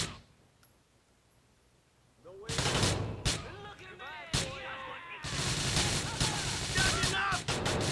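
Gunfire in Grand Theft Auto IV: after a quiet opening, loud bursts of shots and sharp bangs erupt, followed by sustained rapid firing mixed with shouting voices and chaotic game noise.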